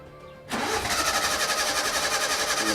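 After a brief quiet moment, a homemade car's engine cranks and catches, then settles into a loud, steady, pulsing idle close by.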